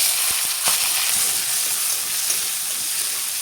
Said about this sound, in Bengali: প্রথমে পেঁয়াজ লঙ্কাটা ভেজে নেব।